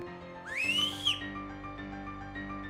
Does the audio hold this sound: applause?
no